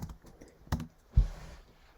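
Typing on a computer keyboard while searching help documentation for an inverse tangent function: a few soft, scattered key clicks, with two louder taps standing out, close by and otherwise quiet.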